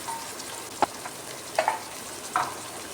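Ash gourd being sautéed with turmeric and rock salt in a pan, a soft steady sizzle with a few brief stirring scrapes and clinks, fairly quiet and with no talk.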